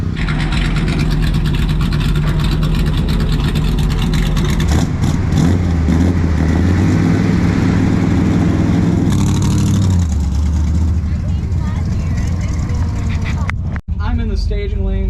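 A Mopar race car with a 360 Magnum engine rumbles loudly and steadily at close range, its note rising and settling in the middle stretch, while people talk over it.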